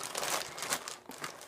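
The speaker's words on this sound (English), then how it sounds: "sorry about the crinkling" Wool knitting project materials crinkle in a plastic bag, producing a steady, close burst of crackling rustles with no talk over it.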